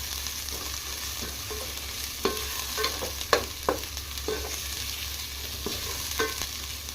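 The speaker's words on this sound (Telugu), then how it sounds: "ఓ 2 టమాటాలు కట్ చేసి పెట్టుకొని ఉన్న టమాటాలు కూడా వేసుకొని ఫ్రై చేసుకుందాం" Thick-cut tomatoes frying with coriander and mint in a pan for veg biryani, a steady sizzle under repeated spatula stirs and scrapes, close and moderately loud, with no talking.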